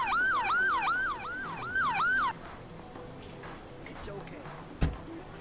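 Ambulance siren in the Emergency 4 video game, a loud rising-and-falling wail repeating about six times in quick succession, then cutting off abruptly, leaving low ambient background and a brief thud.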